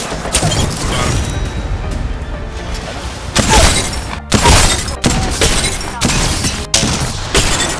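Enemy shields crack under fire in Apex Legends, loud rapid gunfire punctuated by sharp shattering bursts repeating close and forceful throughout.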